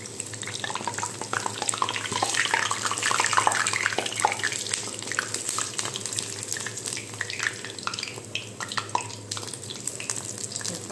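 Banana fritters (Kerala pazham pori) frying in hot oil, giving a steady bubbling sizzle with small crackles and occasional stirring or turning sounds, close and continuous without speech.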